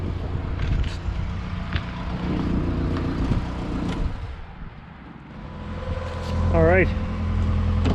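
Chevrolet Chevette engine running with a repaired, tightened exhaust flange, a steady near idle that swells briefly as the throttle is tapped, with someone talking over it.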